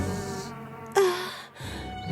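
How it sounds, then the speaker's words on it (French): A giant cartoon queen bee gives off a steady insect buzz that swells suddenly near the middle and then carries on at a lower pitch. "Juste devant elle se tenait une reine des abeilles immense"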